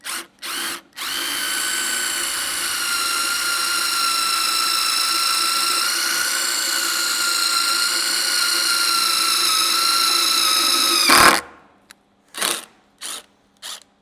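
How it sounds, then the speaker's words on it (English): A power drill pre-drills a screw hole into a Jeep Wrangler tailgate, whining steadily at high pitch for about ten seconds before stopping, followed by a few short trigger bursts. "So we're going to go ahead and pre-drill this one."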